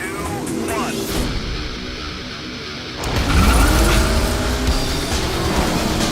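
Race car engines roar and whine in the combat racing video game Split Second, loud and continuous with a surge midway, while a voice talks over the game sound.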